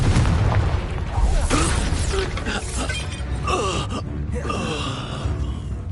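A Confringo blasting spell in Hogwarts Legacy bursts with a sharp explosive boom followed by shattering crackle, grunts and gasps from combatants, and lingering magical whooshes in a busy fight.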